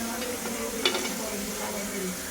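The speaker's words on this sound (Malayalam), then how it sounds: "ആദ്യം ഇതിൽ അണ്ടിപ്പരിപ്പ് കിസ്മിസ് വറുത്തെടുത്ത് മാറ്റാം കേട്ടോ" Cashew nuts and raisins fry in hot ghee, a steady close sizzle with stirring scrapes and a brief clink of utensil against the pan.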